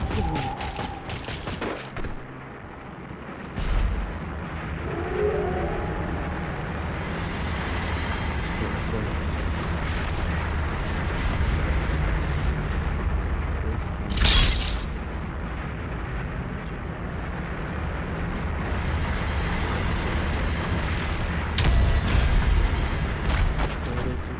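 Grenade blasts and heavy combat in the game DOOM Eternal, with a dense, continuous wall of explosive booms and gunfire and a few sharp, loud bursts standing out above the steady din.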